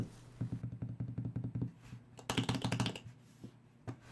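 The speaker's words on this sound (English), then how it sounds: "just tapping way too hard on the copper plates" Fingers tap rapidly on the copper plates of a Pro X Touch capacitive keypad, producing dense, hard clicking bursts in quick rhythmic runs over a low steady hum, with a few isolated taps at the end.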